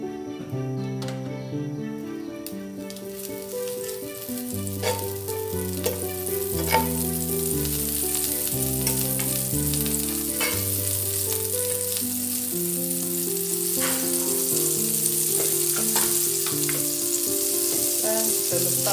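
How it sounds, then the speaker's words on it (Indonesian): Cooking oil mixed with butter sizzles steadily in a pan, a continuous hiss under a loud melodic music track throughout. "Ini saya akan gaul minyak masak dengan butter ya."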